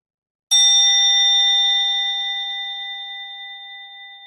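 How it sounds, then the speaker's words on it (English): A meditation bell rung once, a sudden bright strike followed by a long, clear, pure ringing tone that slowly decays over several seconds in silence. "We'll ring the bell"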